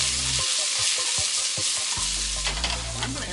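Food sautéing in olive oil in a pan, a steady close crackling sizzle with stirring clatter and a low rumble underneath, running continuously without talk.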